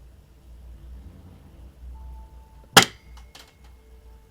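An AR-style BB gun fires a single sharp crack partway through, and the pellet ricochets with a brief metallic ring and a faint second tick just after, over a quiet outdoor background.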